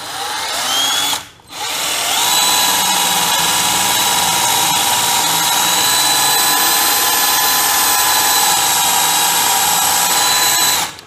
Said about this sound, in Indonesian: saya pakai bor yang ukuran 10 ya, bor kayu dengan baterai Chameleon